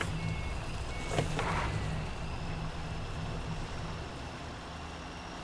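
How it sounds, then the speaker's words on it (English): A truck in SpinTires MudRunner sounds a steady, moderately loud reversing beep over a low engine rumble. A brief, louder burst breaks through at one point, and no one speaks. "Let me back this truck up a little bit here."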